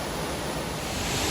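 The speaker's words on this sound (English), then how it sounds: "we made it to Upper Marriotts Falls" Upper Marriotts Falls at Mt Field gives a steady, loud, broadband roar of falling water, close and unbroken throughout with no voices.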